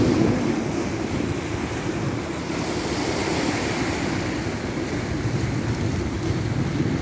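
Steady roar of sea waves surging against rocks on the Salerno, Italy seafront, continuous and fairly loud, with wind buffeting the microphone.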